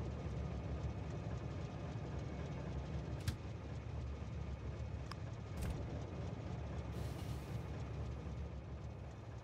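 A train rolls steadily in the Factorio factory-building game, a continuous low rumble and rattle of wagons with a few brief higher clicks and a short hiss near the end.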